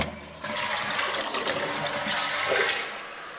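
A Niagara Stealth ultra-high-efficiency 0.8 gpf toilet flushing, with a loud close rush of water that starts abruptly, holds steady for about three seconds and then begins to fade.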